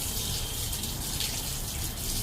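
Tap water runs steadily at a mosque as hands are washed for ablution, a continuous, even gush and splash at close range with no pauses.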